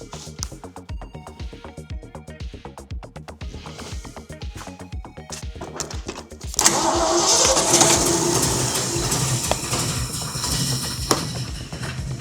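A 1958 Ford F100 truck engine that has sat parked for 13 years cranks with rapid, even starter clatter for several seconds, then catches and runs loud and rough, holding a ragged, uneven idle.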